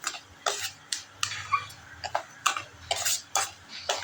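Pineapple jam being stirred in a pan at home, a utensil scraping the pan bottom in a steady rhythm of about ten strokes, close and clear with no talking.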